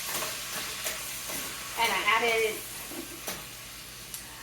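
Frozen green beans sautéing in bacon grease with salt and pepper, giving a steady low sizzle that swells briefly into louder popping and hissing, with a few soft clicks and a single short spoken word.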